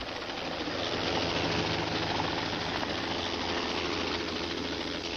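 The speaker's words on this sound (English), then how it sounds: "the chopper took Eric Beecham and Melissa Sullivan to safety" A rescue helicopter flies steadily near a steep cliff slope, its rotor and engine roar loud and continuous with no voices over it.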